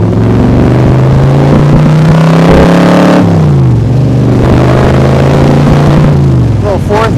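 A 2020 Backdraft Cobra Iconic Edition roadster's engine revs loudly and continuously, pitch climbing, dropping at a gear change, then rising again as the car accelerates through a flyby.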